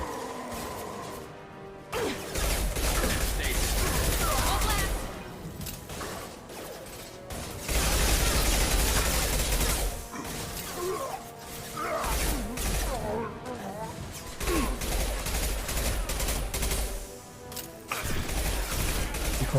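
Rapid burst gunfire like a machine gun in a sci-fi shooter video game, loud dense rattling volleys repeating in long stretches with brief gaps, mixed with mechanical clatter and occasional speech.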